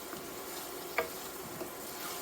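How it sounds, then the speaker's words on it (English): Peppers, onions and mushrooms stirred in a pot for pelau: a quiet steady sizzle with one sharp scrape of a spoon at mid-clip and a softer one after, no voices. "So now it's time to stir in the peppers."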